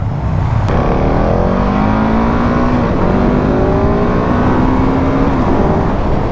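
A KTM 690 Enduro R single-cylinder motorcycle on knobby tires rides along a road, its engine droning loud and steady with rising and falling pitch as it shifts gears, mixed with constant wind rush.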